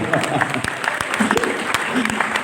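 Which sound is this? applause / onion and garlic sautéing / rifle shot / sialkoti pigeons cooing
applause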